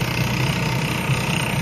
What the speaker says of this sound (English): This is our Model E107 integrated surface downhole drilling rig.